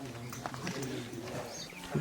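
Rhythmic hoofbeats of a racing bullock from a bullock-cart racing team in Alephata, Maharashtra, a steady clopping pattern over constant outdoor background noise and some voices.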